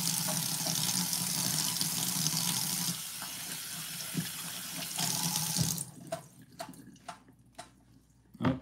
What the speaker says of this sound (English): I like to rinse off my potatoes